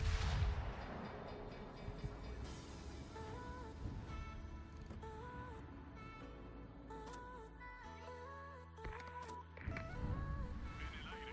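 Warship secondary guns firing in the World of Warships naval combat game, a run of repeated gun reports over a dense game soundtrack with tonal music and engine rumble, loud and steady throughout.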